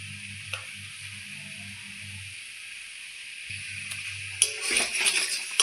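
Papaya, potato and soybean in a pan being stirred with turmeric, cumin and chilli powder and salt, a steady sizzle with scraping stirs and a louder burst of frying toward the end.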